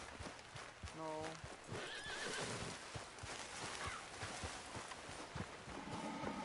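A spooked horse in the video game Red Dead Redemption 2 lets out a sharp whinny over clip-clopping hooves, with someone talking across much of the stretch and the game's ambient noise beneath.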